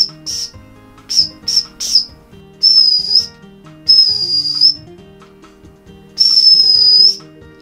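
Shrill toy wind instrument from a Doraemon Happy Meal, blown in short piping bursts followed by longer sustained high tones, close and loud with pauses between notes.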